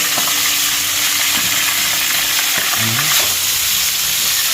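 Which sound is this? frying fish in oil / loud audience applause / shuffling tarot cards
frying fish in oil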